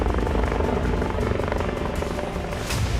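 Firefighting helicopter deployed against a spreading wildfire, its rotor beating in a steady, loud whirring thump that stays close and constant throughout.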